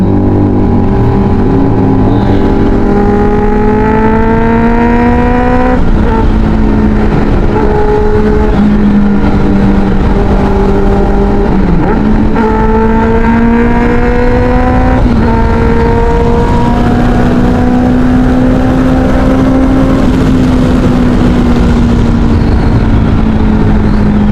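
A loud QJMotor SRK 600 RC inline-four motorcycle engine drones steadily, its pitch climbing and dropping through repeated revs and gear changes, close and continuous with no talking.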